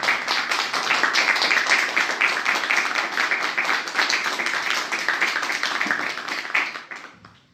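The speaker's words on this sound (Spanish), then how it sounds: "Den un aplauso al Señor" A church congregation applauds as an act of praise, producing a dense, sustained burst of many hands clapping together at steady volume before it tapers off and fades to near silence.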